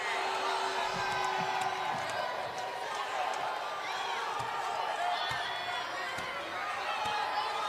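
Dense crowd at a college wrestling dual meet between Nebraska and Wisconsin, loud and continuous with shouting, whoops and scattered claps filling the arena throughout.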